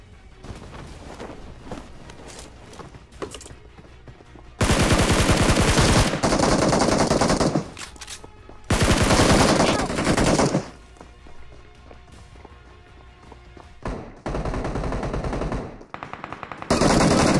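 SCAR rifle fire in a shooter video game: several loud, sustained automatic bursts, each lasting a second or two, separated by quieter stretches of background game noise.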